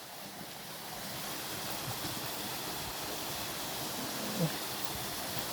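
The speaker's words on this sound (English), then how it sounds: "What an amazing little waterfall." Steady broadband rush of a small waterfall in a village, a continuous close wash of falling water with no voices over it.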